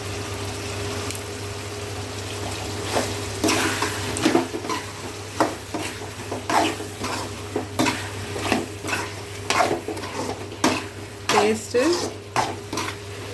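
Pepper chicken is stirred in a hot pan, a spoon scraping and knocking against the metal in a steady, close rhythm over a soft sizzle. A brief word of speech comes through.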